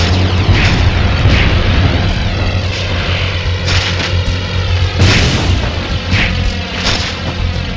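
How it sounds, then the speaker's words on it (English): An out-of-control plane in the Spider-Man 2 video game roars continuously with a loud propeller engine drone, punctuated by repeated booming impacts and a big blast near the middle. "That plane's out of control!"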